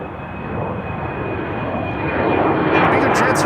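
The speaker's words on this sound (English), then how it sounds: "is that a BizJet taking off? Landing? No, it's taking off. This is taking off from runway 22." A business jet taking off from runway 22 at Amsterdam Schiphol, a steady loud roar of engines that swells slightly toward the end, with a thin high whine running through it and a voice talking over it.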